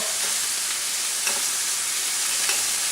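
Ribeye steak pieces frying in a pan, giving a steady close hiss of sizzling fat with faint occasional pops, heard alone with no talking.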